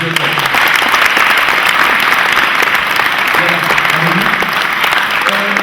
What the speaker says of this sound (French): Malcolm, voilà, on l'applaudit.